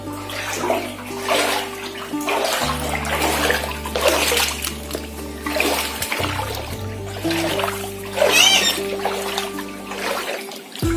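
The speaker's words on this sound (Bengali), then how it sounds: "কত জল দেখো কত জল পুরো বাথরুম ঘুরে গেছে গোড়ালির ওপর পর্যন্ত জল জমে গেছে" Water runs and splashes across a bathroom floor flooded ankle-deep after heavy rain, a steady wash of trickling and sloshing with a low hum underneath, close by and fairly loud throughout.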